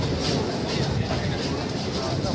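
A MEMU passenger train pulling out of Karamadai station, a loud, steady broadband rumble with a dense rattling wash, near and continuous, with voices mixed into the noise.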